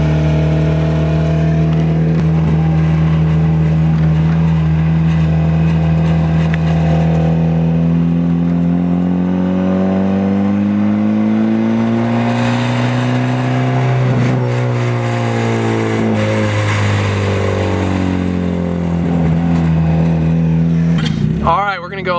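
Car freshly fitted with a swapped engine and turbo, driving and accelerating; a loud, steady engine drone rises and falls in pitch with the throttle, heard from inside at close range throughout.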